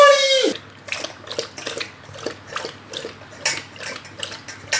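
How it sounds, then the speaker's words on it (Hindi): A Labrador laps water with its tongue in a quick rhythmic series of wet slaps, close and clear, following a brief whining tone at the start, with no talking. "वो पानी कैसे पीती है, ऐसे घुसता है और पानी यूं लपेटती है ये यूं"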